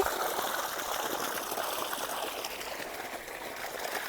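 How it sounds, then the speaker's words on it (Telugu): Borewell water rushes out continuously in a village, flowing steadily, a dense even splash close by with no pauses and no talking. "మా బోరు వాటర్ అయితే."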